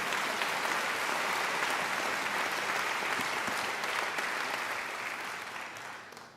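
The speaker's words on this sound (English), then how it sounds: "I think they deserve a round of applause too" Sustained applause fills a graduation ceremony hall, many hands clapping in a dense, even roar that stays strong before tapering off near the end.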